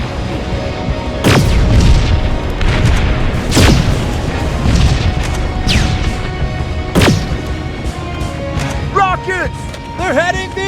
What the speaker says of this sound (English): Rockets! They're heading this way!